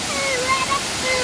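Areeckal waterfall rushes as a steady broad roar of falling water, close and continuous, with faint thin tones drifting over it.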